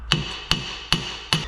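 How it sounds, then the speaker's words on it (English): A hammer strikes the front brake disc on a Vauxhall Insignia to free it from the hub, giving four sharp, ringing metallic blows at a steady, unhurried pace, loud and close, with no talk. "give it a shock with a hammer"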